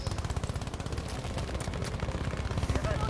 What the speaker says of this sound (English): There's so many shooting at me.